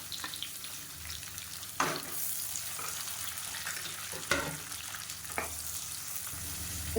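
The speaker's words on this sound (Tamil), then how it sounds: "இப்போ வெங்காயம் ஓரளவுக்கு வதங்கிடுச்சு" Onions and mint fry in oil for a lunch-box recipe, with a soft, steady sizzle broken by a few sharp scrapes of stirring, quiet and without talk.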